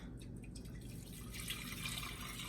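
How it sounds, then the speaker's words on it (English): Water pours and trickles steadily into a pot to be brought to a boil for grits, a close, continuous liquid stream that grows slightly brighter toward the end, with no talking. "So let's start with some water"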